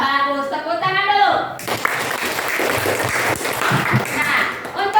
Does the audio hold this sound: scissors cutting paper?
no